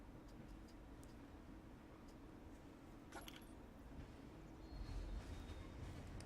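Faint ride sounds from a theme park video game train: a continuous low rattling rumble with light ticking and metallic clinks, a brief sharp clatter partway through and a slightly louder swell near the end.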